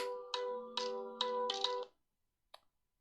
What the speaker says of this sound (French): Vous avez entendu, c'était mon téléphone